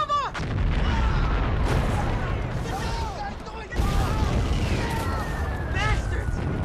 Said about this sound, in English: Our guys are bombing us! Take cover!